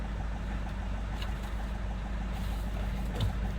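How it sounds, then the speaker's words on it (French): A Renault diesel car engine idling steadily with a low, even rumble throughout, close by, with a faint clunk near the end and no talk. "je lance le moteur"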